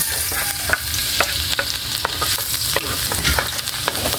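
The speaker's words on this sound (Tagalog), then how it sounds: "Ayan, gisa na po tayo ng bawang." Garlic sautéing in a hot pan, a steady broadband sizzle broken by repeated sharp scrapes and clinks of a spatula stirring against the metal, close and fairly loud with no voices.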